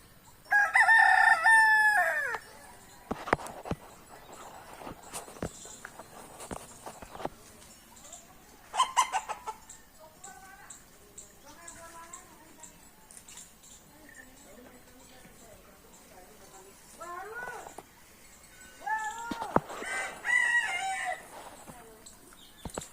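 A rooster crows loudly and close by in the morning at the start, then again near the end, with quieter clucks and village farmyard noises in between.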